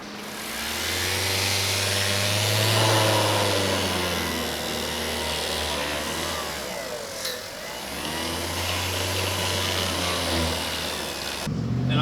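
A sander polishes an Acura headlight with a yellow cutting pad and plastic polish, giving a steady loud motor whine that swells and dips as the pad is worked across the lens.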